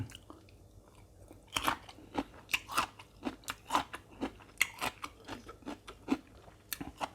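Crunchy bites and chewing of a fresh carrot salad with shrimp and stink beans, close and crisp, in a rapid irregular series of sharp crunches with no talking.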